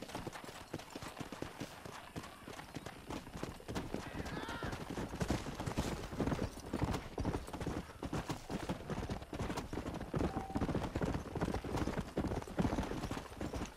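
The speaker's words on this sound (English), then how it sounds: "cavalo pulando sozinho" Rapid clip-clop of horse hooves at a gallop in the video game Red Dead Redemption, steady and continuous across the whole stretch, with a brief whinny and game ambience mixed in.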